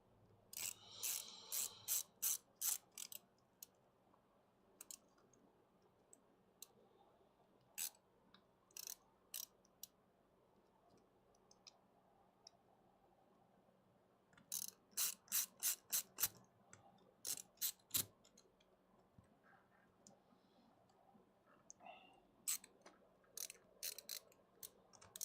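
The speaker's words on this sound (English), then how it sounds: "Just need to get a couple screws in here" A ratcheting screwdriver drives screws during a PC repair, giving clusters of crisp, close clicking ratchet strokes in quick rhythmic bursts separated by quiet pauses, over a faint room hum.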